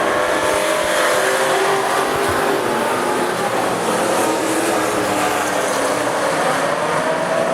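Race cars at the AMCA Nationals at Rockhampton Speedway thunder around the track on a restart, a loud, continuous engine roar with no break.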